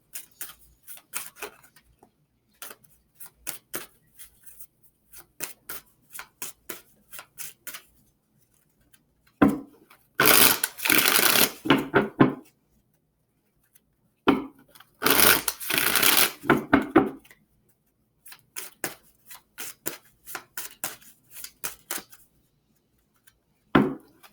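Cards being shuffled up close, with repeated light clicking riffles and two longer loud bursts of rapid flutter, separated by short quiet gaps.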